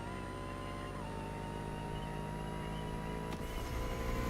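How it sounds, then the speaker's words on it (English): Car engine in a racing video game, a steady whining drone with a sharp pitch shift near the end, playing alone without talk. "Am I hearing the worst engine sound?"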